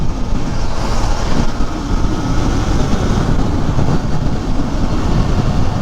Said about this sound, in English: give you an idea of how much wind noise and things that you get from a naked bike here